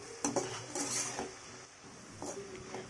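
Utensil scraping and clinking in a pan while radish fry is stirred with garam masala, a few distinct metallic taps over a faint background hiss.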